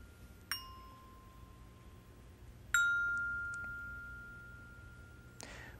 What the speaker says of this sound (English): Let the bell ring and let the head come back up off the bell.